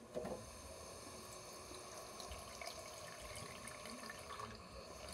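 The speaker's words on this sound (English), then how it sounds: "I'm filling my little reservoir up with water." Tap water runs into a small reservoir for art paint splashing, a faint steady hiss and trickle that continues evenly throughout, with no voices.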